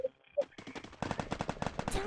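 Rapid automatic gunfire from an N94 in a mobile battle-royale game, short bursts of evenly spaced shots at close range, with a few brief game tones before them.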